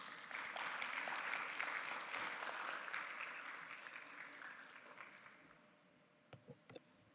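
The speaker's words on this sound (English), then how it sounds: "Please welcome Ms. Mainers with a big round of applause." Audience applause at a regional symposium welcomes a session moderator. Clapping in a hall swells quickly, holds for a few seconds and then fades, leaving a few faint scattered sounds at the end.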